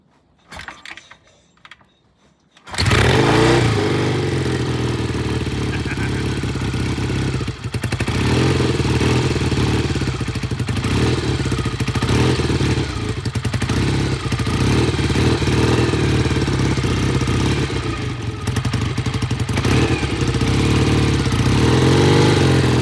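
A vintage British motorcycle engine fires up after a quiet start and keeps running loud and close, a rough clattering idle with some revving, no talking over it.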